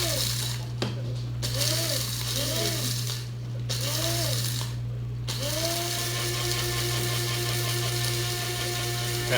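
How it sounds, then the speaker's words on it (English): Electric coffee grinder grinding coffee beans, a steady whirring motor hum whose pitch sweeps and shifts in arcs as the beans break down, then settles into a smoother, higher drone; loud and continuous with no talking. "Kind of hear how the sound changes as it grinds."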